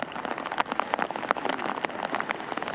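Heavy rain pours steadily across a golf course during a tournament round, a dense, continuous hiss of drops pattering on grass and surfaces, close and fairly loud throughout with no talk.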